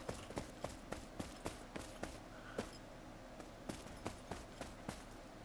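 Horse hooves plod in a cowboy life simulator video game, a steady series of sharp, fairly close clip-clop hits with a few irregular gaps, heard alone without talk.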